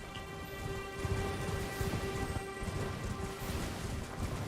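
Steady rain falls in the Elden Ring game world, a dense, even patter with faint low rumbling beneath a constant tone, no voices.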